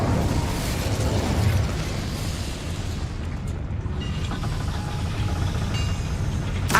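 A fire spell cast in a Harry Potter video game bursts out as a loud, rumbling roar of flame. The blast holds as a dense, sustained rush that fades slightly toward the end.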